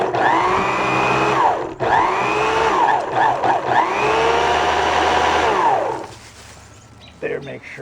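Vintage Electrolux power nozzle vacuum whirs loudly and steadily for several seconds, its motor pitch rising and falling, then winds down near the end.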